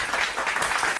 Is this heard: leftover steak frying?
no